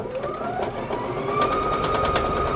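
A sewing machine runs steadily, stitching a quarter-inch seam on a scrappy quilt block, with a continuous whirring hum and a faint rising whine throughout.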